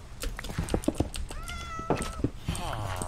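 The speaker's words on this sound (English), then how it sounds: "I hear a cat." A Minecraft cat gives a couple of drawn-out, tonal meows amid faint clicks and brief vocal sounds, fairly close and clear.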